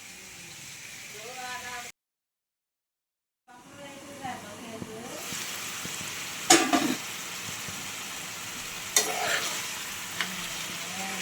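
Village-style gongura chicken sizzles and fries in a pan over a high flame, a constant close hiss with a few sharp crackles and a brief silent gap near the start, while a voice talks over it.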